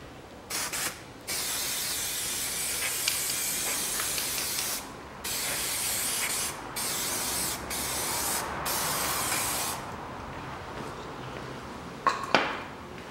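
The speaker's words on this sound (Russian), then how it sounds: "Смажу медной смазкой." Copper grease sprayed onto the front brake parts of a 2004 Volkswagen Touareg: long, close, loud aerosol hisses in several bursts with brief pauses between them.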